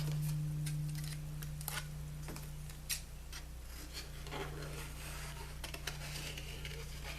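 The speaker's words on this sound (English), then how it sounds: "I'm going to fussy cut this." Scissors snip around a cardstock birthday card piece, giving a series of quiet, irregular cutting clicks and light rubs close by with no talking.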